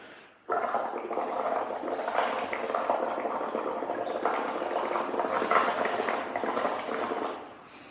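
Air is blown through a straw into a bubble paint mixture, a continuous loud bubbling gurgle that starts abruptly and runs steadily for several seconds before trailing off.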